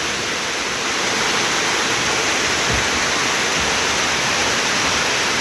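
Steady rain pours down outdoors over rice fields in the countryside, a dense continuous hiss with no break, close and fairly loud.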